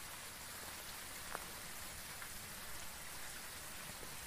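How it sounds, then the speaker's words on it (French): Steady rain falls with a constant hiss in the game Phasmophobia, a few individual drops standing out now and then; no voices, fairly soft overall. "la pluie a changé"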